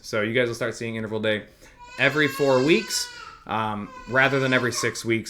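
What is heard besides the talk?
baby screaming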